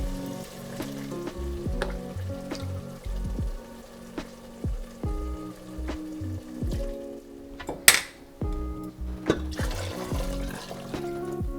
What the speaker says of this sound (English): We are now going to be adding our stock that we made.